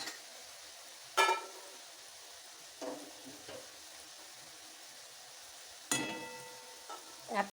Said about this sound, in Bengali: ভাজা পুলিগুলো একদম ভাজাও হয়ে গেছে